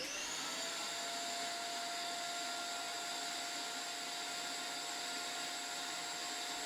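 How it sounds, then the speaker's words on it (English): A vacuum cleaner fitted with a 3D printed adapter and a metal tube from another vacuum runs steadily, a constant whooshing motor drone with a thin high whine, alone and unchanging throughout. "I used a 3D printed adapter to attach it to a vacuum cleaner"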